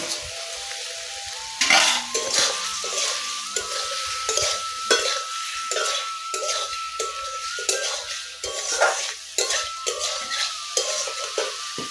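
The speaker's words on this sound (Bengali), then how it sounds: "এখন আমি কপিটা দিয়ে দিব। ভেজে রেখেছিলাম আলুটা দিয়ে দিব।" Cauliflower and pre-fried potatoes tipped into cooked-down masala in a pan, then stirred, with a brief louder burst as the pieces land, followed by steady frying sizzle and frequent close spatula scrapes and knocks on the metal.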